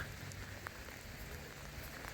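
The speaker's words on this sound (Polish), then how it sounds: "Kurde pada i to szkoda." Rain falls steadily in a forest, a soft, even patter of drops on leaves and ground with no other sounds standing out, quiet and continuous throughout.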